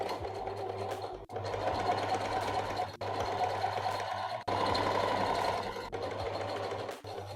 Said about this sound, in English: Now you're going to take this to your sewing machine and stitch from one end to the next with a 1/2 inch seam allowance.